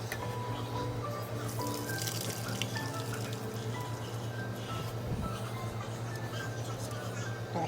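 Red wine grape juice trickles and drips through a sieve into a collecting bowl at home. The liquid patters in a continuous, fairly quiet stream close by, with a low steady hum in the background.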